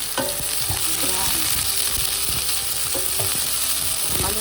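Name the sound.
chicken being sautéed in a pan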